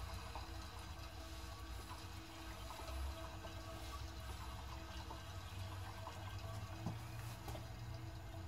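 Automatic transmission fluid draining from a 2008 Ford Ranger, a faint continuous trickle of liquid that is no longer a solid stream, heard alone at low volume.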